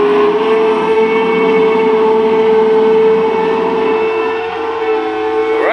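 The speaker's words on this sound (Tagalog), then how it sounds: "Lakas sa busina ni Jis tsaka ni Kinsey mga kamamay." A loud, sustained horn blares steadily for several seconds, a long continuous tone over a rumbling vehicle engine.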